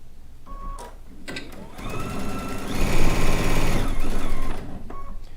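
A sewing machine stitches through rag quilt fabric and over pins, its motor starting and stopping and then running in a long, loud steady burst up close.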